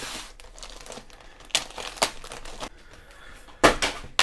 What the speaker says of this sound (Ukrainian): Розпаковка посилок.